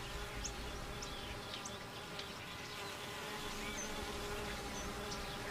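Honey bees buzz steadily at the entrance of a hive, a dense, continuous hum with a few individual bees droning close by amid the swarm, no voices present.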